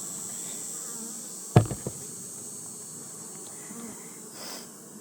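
Honeybees around an open hive during an inspection give a steady, close droning hum throughout, with a brief knock and rustle of handling partway through.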